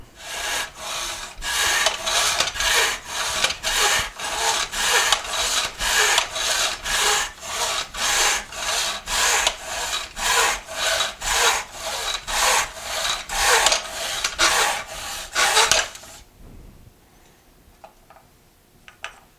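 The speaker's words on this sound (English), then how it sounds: "So that was cutting through a piece of pine." A Nobex Champion hand miter saw cuts through pine in a long series of steady, rhythmic rasping strokes, loud and close. The strokes stop near the end and are followed by quiet handling noise.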